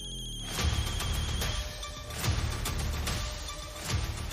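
An old mobile phone rings with a repeating electronic ringtone, loud and close, in phrases that recur roughly every one and a half seconds with no talk over it.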